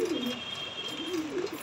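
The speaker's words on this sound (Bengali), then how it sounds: "পায়রা একদম ফুল মস্তিতে আছে" Pigeons of a golden Chapga pair coo close by in a soft, rolling series of low warbling phrases, with faint background hiss and no voices.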